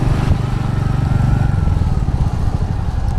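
A motorcycle rides through a long traffic jam on a mountain road near a construction site. Its engine drones steadily and close by for the whole stretch, with surrounding traffic noise underneath and no talk.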